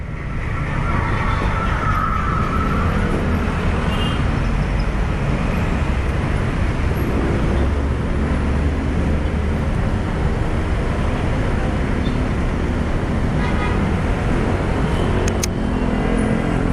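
Busy road traffic with cars and buses makes a steady, loud, broadband roar that continues without a break, with no voices.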